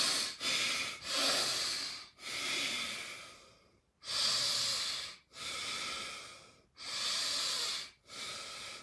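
Heavy, labored breaths close up, each long rasping inhale or exhale separated by brief pauses, repeating about seven times.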